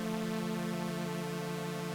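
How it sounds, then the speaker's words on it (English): A sustained unison synth tone made in Ableton from two oscillators with opposing LFO modulation plays steadily and evenly at low level, with no talking. "Next up then, we have a unison type of sound."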